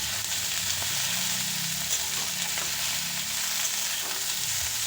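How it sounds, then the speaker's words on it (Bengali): Potato, eggplant, beans, peas and carrot fry together lightly in oil for a winter mixed-vegetable palong shaak dish, a dense constant close sizzle with faint stirring underneath. "এবার সব কিছুকে হালকা ভেজে নেব।"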